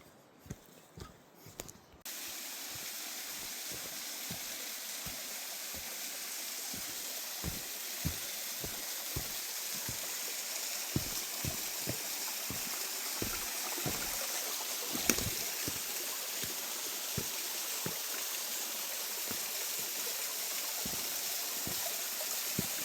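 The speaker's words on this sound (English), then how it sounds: "And we've got another little waterfall here." A small waterfall on West Canungra Creek pours in a constant bright rushing hiss, close and steady, with faint irregular knocks scattered throughout.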